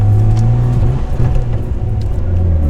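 Nissan R32 Skyline engine running rough and cutting out around 2000 RPM while driving, a loud uneven rumble with wavering drone and dips in power, close and alone.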